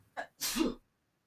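A single close sneeze with a short intake breath before the sharp burst, then silence.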